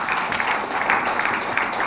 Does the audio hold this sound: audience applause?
yes